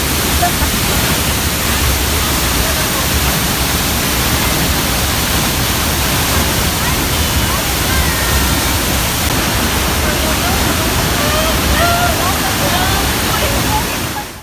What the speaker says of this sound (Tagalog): Malapit lang sa stopover natin ang falls na to.